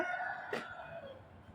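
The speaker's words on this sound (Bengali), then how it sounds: "আমার সকালবেলা মোরগের ডাক খুব ভালো লাগে" A rooster crows once on a morning in Nigeria: a single drawn-out call, faint and distant, over a low steady background with no talking.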